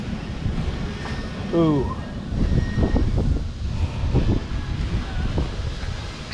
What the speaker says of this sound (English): Wind has picked up.